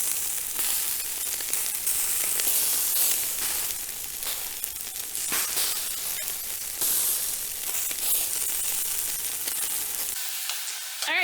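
Cubed pork fries in a pan for a Korean soft tofu stew, giving a steady, loud broadband sizzle with occasional stirring. Near the end it drops off abruptly, and no one speaks.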